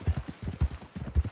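Horse hooves clip-clop in Red Dead Redemption 2, a quick, even run of close, soft thuds in a steady trotting rhythm with no voices.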